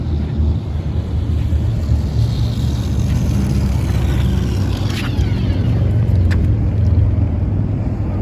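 A 1991 Tamiya Ferrari F40 RC car with a Sport Tune motor makes a top-speed run outdoors, a steady loud rushing whir and wind rumble with a few brief high whining passes.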